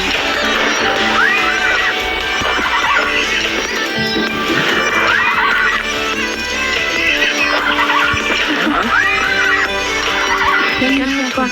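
A horse in a farm video game whinnies several times while it is being saddled, with a voice talking over the game sounds and music.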